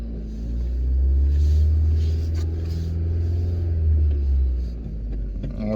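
A used car with a bad head gasket driving away from a dealership, its engine a steady low rumble that swells in the first second and holds fairly loud, easing slightly near the end.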